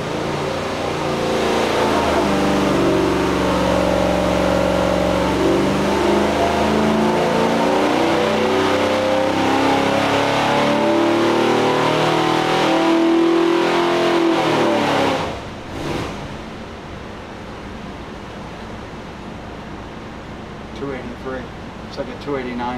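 A Ford 289 V8 on a dyno pulls hard in a loud, sustained rev that climbs steadily in pitch, then cuts off abruptly after about fifteen seconds and settles to a quieter, uneven idle.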